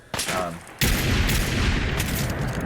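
Loud, dense gunfire and booming blasts in Fallout 4 with a louder-weapons mod, a short burst followed by a sustained rolling roar of shots and explosions, close and heavy.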